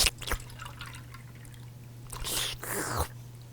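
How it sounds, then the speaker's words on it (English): Water poured from small glasses into a larger glass, a brief splash at the start and two louder pours near the end, over a steady low hum. "fill the smaller glass twice and then pour them into the larger glass"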